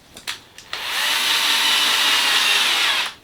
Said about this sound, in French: il faudra aussi d'abord percer le patin alu inférieur